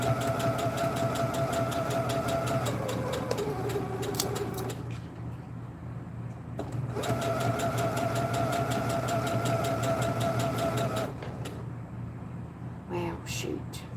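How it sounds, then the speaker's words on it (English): A sewing machine stitches close to the edge of a bandana bag in two long humming runs, stopping for a short pause between them, with a voice talking. "I'm sewing as close to the edge of the material as possible"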